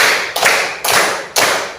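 Hand claps in a classroom counting game, a group clapping together in a steady rhythm of three sharp, loud claps spaced about half a second apart, with no talking.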